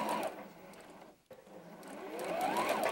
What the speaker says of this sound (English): checking to make sure I'm always sewing in my quarter inch seam